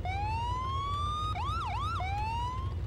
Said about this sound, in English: You still got your sirens.